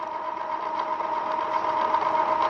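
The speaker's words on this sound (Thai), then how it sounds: "ได้ยินเสียงไหมครับ เสียงความแข็งนะครับของเหล็กที่ชุบมานะครับ" A steady, loud mechanical whine with a strong tonal hum as a hardened steel motorcycle bushing is pressed in under constant force, with no talking.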